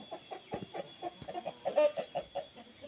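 Chickens cluck in the shaded space beneath a village stilt house, a quick run of short, close, fairly quiet clucks and murmurs in an uneven rhythm.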